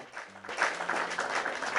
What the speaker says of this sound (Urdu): پورا حال تالیوں سے گونج